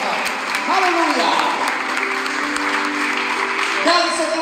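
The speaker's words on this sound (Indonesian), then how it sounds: "Berikan tepuk tangan yang meriah buat Tuhan." Wedding guests applauding in a church ceremony just after the couple's union is declared, a lively burst of clapping under a voice speaking and sustained tones.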